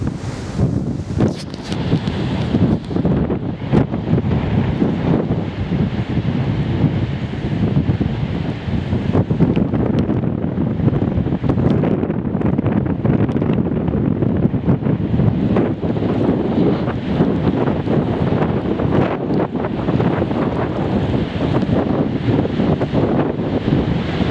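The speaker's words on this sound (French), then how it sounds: "il y a des belles rafales quand même" Strong, continuous wind gusts roar and buffet the microphone outdoors, a loud, rough rush that swells and eases slightly over the whole stretch without any talking.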